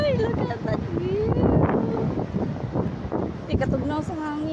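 Gusty wind buffets the microphone in a steady roar on a hilltop overlooking the ocean near Ayr, Australia, while a person talks over it outdoors.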